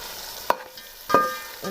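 Vegetables with coriander powder and salt stirred in a pan for vegetable fried rice, two sharp clanks of a spoon against the pan over a low background sizzle.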